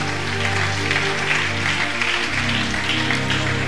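A church congregation claps steadily over a sustained, moderately loud stretch during a sermon on deliverance, with a low droning tone underneath.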